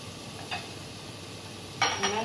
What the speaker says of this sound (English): Just crush the tomatoes with the spatula like this.